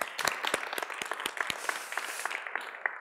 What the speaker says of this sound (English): Round of applause for Rolf again.